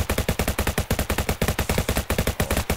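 Rapid, evenly spaced gunshots from a video game fire one after another in a steady, loud rhythm, close up and uninterrupted for several seconds.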